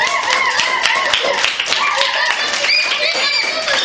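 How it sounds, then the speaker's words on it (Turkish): Classroom applause from pupils, a burst of quick, uneven hand claps close by, mixed with children's voices talking over it throughout. "Öğretmenim. Alkışın."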